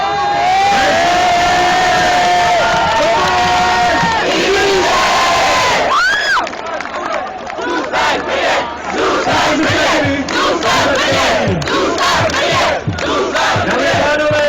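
HC Kometa Brno hockey fans in a packed crowd chant and roar the rallying cry to stay in Brno at a 2011/2012 play-off celebration, loud sustained rhythmic shouting with whoops throughout.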